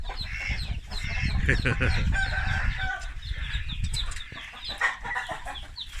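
Many chickens and chicks cluck and peep together in a busy, continuous clamor, with a crow breaking through near the middle.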